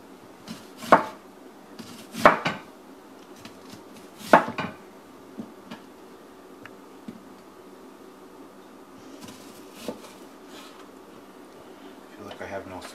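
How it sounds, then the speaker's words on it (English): A knife chops onion on a cutting board in a home kitchen: three sharp, separated thuds come close together early on, followed by fainter scattered taps and light clatter. "we're going to chop it up real quick"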